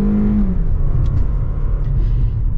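A 2024 SUV, either a Toyota RAV4 TRD or a Kia Sportage X-PRO, accelerating at full throttle, a loud, close engine rumble with a short rising tone at the start, then a steady droning roar.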